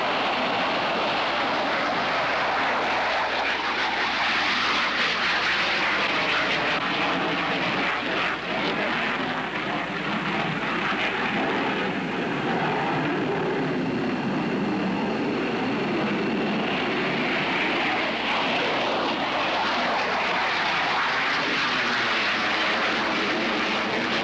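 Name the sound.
F-15 Eagle jet fighter aircraft flying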